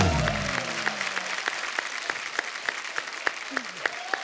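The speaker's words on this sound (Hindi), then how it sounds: "जोरदार तालियां" Dense applause from the studio audience of The Kapil Sharma Show, steady and sustained, with a voice calling out early on and sharper individual claps standing out toward the end.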